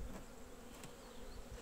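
Honey bees drone continuously inside a hive at a syrup feeder in a young split colony, a dense close hum with faint ticks and bumps over it.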